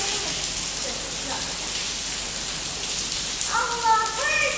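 Steady rain falls outdoors in a hot climate, a dense even patter that fills the scene throughout, with a brief voice breaking in near the end.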